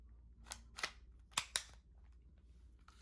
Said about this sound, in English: We load in 1 projectile, so that way we could run a 9-shot setup using PepperBall rounds if you wanted to do that. And just load it in.